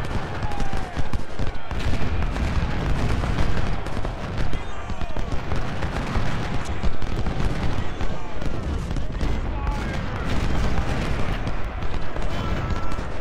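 Dense musket volleys and cannon fire crackle and boom continuously in the Civil War strategy game Ultimate General: Civil War, set at the Battle of Stones River. Someone talks over the battle noise throughout.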